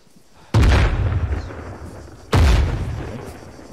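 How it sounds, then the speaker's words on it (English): Two loud, close ammunition cache blasts in the combat game ARMA 3, each a sharp boom trailing into a long rumbling decay, about two seconds apart, with no voices. "I just almost got hit by the shrapnel from the cache explosion."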